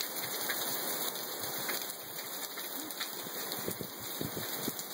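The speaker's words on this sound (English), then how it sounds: "Oh, it's raining on me." Steady rain falls and patters on surfaces nearby, a dense continuous hiss with scattered louder drops.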